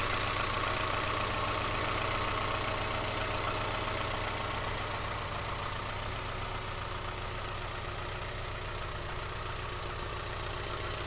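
A Renault 25 barn find sits idling in a garage, its engine holding a steady, even low rumble close by for the whole stretch, with no voices.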